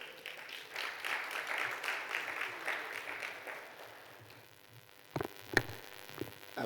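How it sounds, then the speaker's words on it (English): Audience applause at a health conference session, light scattered clapping that tapers off, followed by a few isolated thumps and handling noises in a quiet room. "Shall we receive him with a round of applause?"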